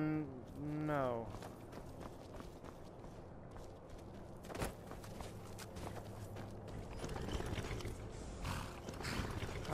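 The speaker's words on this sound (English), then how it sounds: "Wow, you are a big horse," A horse at a stable in the video game Skyrim VR snorts and whinnies briefly near the start, then hooves clop and shuffle quietly under faint ambient noise and a man's speech.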